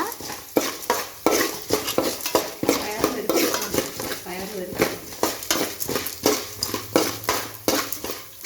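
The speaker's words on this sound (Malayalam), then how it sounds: "ഇനി ഒന്ന് ഒന്ന് ഇളക്കി കൊടുക്കാം ഒന്ന് നന്നായി ഇളക്കുക കരിയാൻ പാടില്ല" A utensil scrapes and clanks rhythmically around a pan of lentil payasam being stirred, roughly two strokes a second, close and clear, while someone talks over it.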